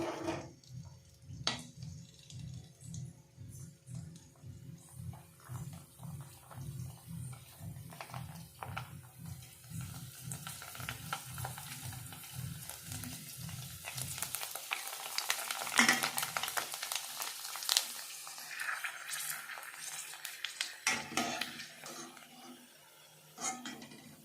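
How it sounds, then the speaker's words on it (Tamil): Ready-made pani puri fry in hot oil, a steady bubbling sizzle with stirring scrapes, continuous and fairly close, with light clattering near the end and no talk. "ரெடிமேடு பானிபூரி வாங்கியிருக்கிறேன். இதை பொரித்து எடுத்துக்கலாம்."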